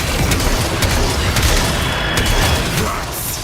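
Explosive detonations in a video game battle, dense loud booms and rumbling blasts running continuously with a few sharper bursts, close and heavy throughout.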